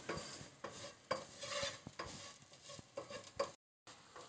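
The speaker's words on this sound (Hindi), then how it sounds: "और अब इन सारे अज्जा को मैं इसमें अच्छी तरह से थोड़ा सा भून लूँगी।" Spices and chaat masala roasting in a pan, with repeated scraping stirs of a spoon over a low sizzle, close and quiet, broken by a brief silence near the end.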